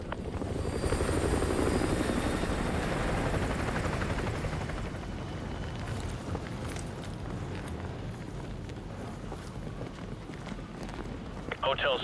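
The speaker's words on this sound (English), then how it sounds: "Enemy helo patrolling the perimeter." An enemy helicopter on patrol in the Modern Warfare 2 Remastered game makes a dense, continuous rotor roar that is loudest early on and then holds at a slightly lower level, alongside running footsteps.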